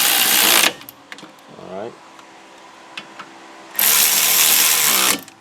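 Bolts on a 1998 Toyota Camry brake caliper bracket are tightened with a power tool, two loud buzzing bursts at the start and end with a brief spoken word between them.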